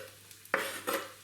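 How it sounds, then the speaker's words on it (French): Red onion pieces drop into a frying pan of olive oil, giving two quick clattering hits about a third of a second apart over a quiet kitchen background, with no one talking. "on met les morceaux d'oignon rouge dans la poêle"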